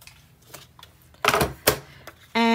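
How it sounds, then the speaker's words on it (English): Scissors snip half an inch off a paper strip for a scrapbook layout, two or three crisp cuts close by, with a brief sharp mechanical rasp at the end. "we just need to take 1/2 inch off the length of this paper strip"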